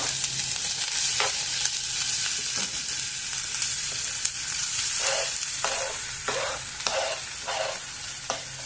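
Grated carrot frying in a pan for carrot halwa with paneer, a continuous close sizzle broken by repeated scraping strokes of a spoon stirring, strongest and most rhythmic in the second half, with no voices.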